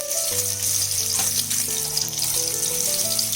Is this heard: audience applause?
no